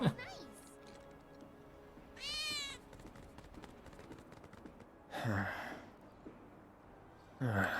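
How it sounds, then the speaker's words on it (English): A cat in the Final Fantasy 7 Intergrade video game meows three times, each a short rising cry spaced a few seconds apart, over quiet game ambience with a person talking. "I think one of Betty's cats might be nearby."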